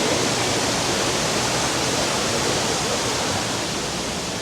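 A waterfall at Disney's Animal Kingdom gives a loud, steady, broadband rush of falling water that fills the whole stretch without pause.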